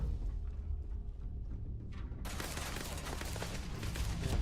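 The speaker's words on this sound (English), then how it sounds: "Now it starts shooting at me." Gunfire in the Starfield video game is aimed at the player: a muffled rumble suddenly gives way to a dense, continuous barrage of rapid shots that stays loud and sustained to the end.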